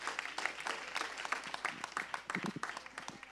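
A church congregation applauds in sustained, dense clapping with scattered individual claps standing out, steady and fairly loud throughout.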